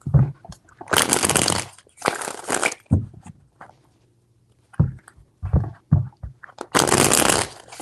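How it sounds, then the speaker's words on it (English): Several bursts of tarot cards being shuffled, loud and close, separated by short pauses, with a faint brief voice between them. "Four shuffles."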